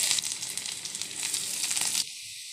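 Chickpea dal frying with spices in hot oil, a bright crackling sizzle that hisses steadily for about two seconds before cutting off abruptly, close and fairly quiet.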